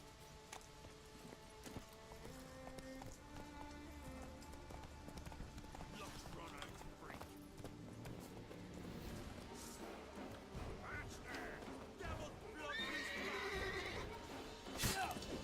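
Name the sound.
horse Roach trotting and neighing in video game Witcher 3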